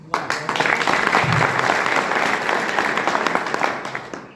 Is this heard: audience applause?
yes